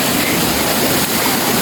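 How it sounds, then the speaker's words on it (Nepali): A small roadside waterfall on the trail to Lauke waterfall in Nuwakot, Kakani, during monsoon, roaring as a steady, loud, dense wash of falling water with no letup. "अन द वेको सानोतिनो झरना हो यो चाहिँ।"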